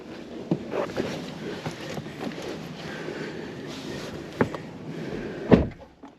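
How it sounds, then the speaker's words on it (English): A Toyota Grand Highlander car door thumps shut close by with a sharp, heavy slam near the end, after a couple of lighter knocks and shuffling sounds. "Close the door."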